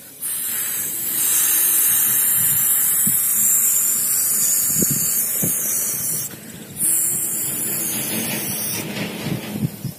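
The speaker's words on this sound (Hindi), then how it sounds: "केन को आप शेक कर ले 20 से 30 सेकंड उसके बाद जो इस तरह से स्प्रे करें" Spray paint can hissing grey paint onto a satellite dish in sustained bursts, a loud bright airy spray that briefly pauses and resumes, with faint clicks and handling noises underneath.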